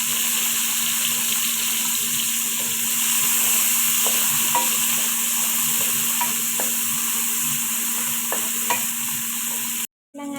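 Garlic and onion frying in a pan for a tuna dish, a steady close sizzle with occasional stirring clicks and scrapes, no talking, ending in a brief dropout.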